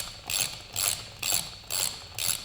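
A ratchet tightens the rear brake rotor bolts on a 2015–2017 Yamaha YZF-R3 while a Galfer wave rotor is fitted, five evenly spaced bursts of rapid clicking, close and distinct, with no voices.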